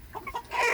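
A short burst of clucking from a docile American Buff rooster close by, quiet and brief.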